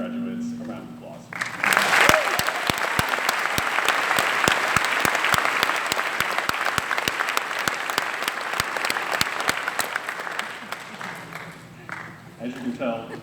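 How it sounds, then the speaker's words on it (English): An audience at a nursing school graduation ceremony breaks into sustained applause, dense clapping swelling quickly and holding for about ten seconds before tapering off, with brief talk before and after. "give this wonderful group of graduates a round of applause"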